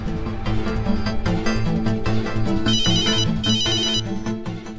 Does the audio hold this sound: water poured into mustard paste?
no